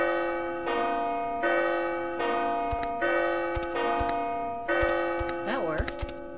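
Monastery gatekeeper's bell in The Abbey, rung by pulling a rope, giving a series of clear ringing strikes spaced about a second apart, each with a long sustained tone and a lingering decay.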